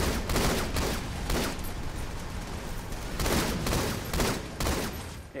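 Rapid, dense rifle fire in the game Halo 2 Anniversary, loud overlapping bursts of shots in several clusters with a steady background of battle noise.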